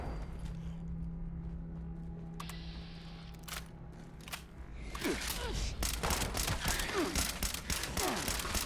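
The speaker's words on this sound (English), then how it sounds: "Shoot Doc Fries there." Gunfire in the video game Fallout 76, with scattered sharp shots early, then a dense burst of rapid repeated shots over the second half, fairly loud against a low background hum.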